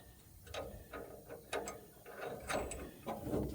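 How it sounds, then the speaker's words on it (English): A ratchet tightens a nut onto a bolt while a Chevrolet C10 truck is being lowered: a few short, quiet bursts of clicking pawl strokes, evenly spaced and close up, with no talk. "let's go ahead and put a nut on the back"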